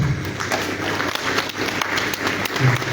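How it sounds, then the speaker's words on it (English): Audience applause at a national forestry forum in a ministerial complex, a steady dense patter of many hands clapping throughout, moderately loud and continuous with no clear talk over it. "Kindly give the Deputy Managing Director another round of applause."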